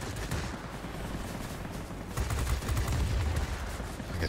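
A Bf 109 E fighter fires its machine guns in the World of Warplanes game, a dense, sustained burst of rapid gunfire that thickens partway through, with engine drone underneath.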